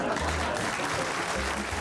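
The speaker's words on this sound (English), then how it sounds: "I'd like to take my applause now" Studio audience applauding comedian Tommy Cooper, a steady broadband wash of clapping that holds throughout at moderate level, with faint voices mixed underneath.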